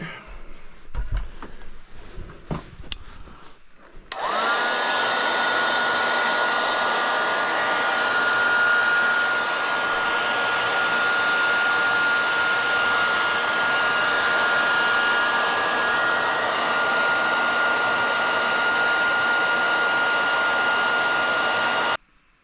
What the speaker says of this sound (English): So I've got my heat gun here. I'm just going to try to heat it up